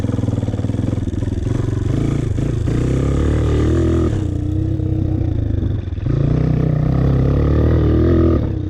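A dirt bike rides through ruts, its engine loud and close with a continuous buzzing drone that rises and dips as the throttle changes, joined by clattering and scraping, with no voices.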